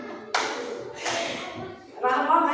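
A primary school class claps in a few separate bursts, the claps mixed with children's voices chanting in a classroom.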